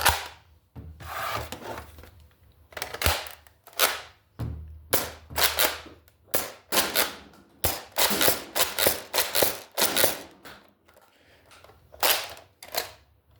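A modified Nerf Modulus Mediator blaster fires foam darts during a range test, a series of sharp, close pops and mechanical snaps arriving in irregular bursts with brief pauses, with no talking.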